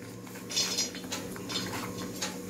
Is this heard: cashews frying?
yes